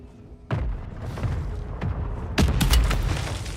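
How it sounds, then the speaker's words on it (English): Mortar strike explosions in a video game: a heavy thump lands first, then a cluster of sharper booms and crackling blasts rolls in a second later, moderately loud with no talking. "Mortar strike inbound."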